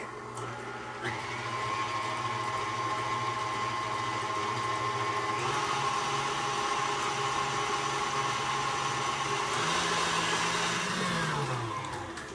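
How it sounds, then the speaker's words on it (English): A stand mixer whips egg whites on high speed for protein hoagie buns, giving a steady, loud motor whir with a sustained tone that holds for the whole stretch and shifts pitch briefly near the end. "I'm going to go ahead and add this into my mixer. And I'm going to beat this on high for 5 minutes"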